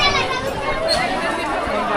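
Crowd of temple-goers chattering at the Jejuri Khandoba temple, with a continuous hubbub of overlapping voices, children's voices standing out, near and moderately loud throughout.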